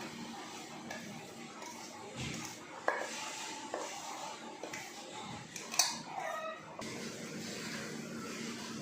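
Raw mango pickle being tossed with spices by hand, a soft continuous rustle and squish with a few brief sharper knocks, close and fairly quiet with no voices.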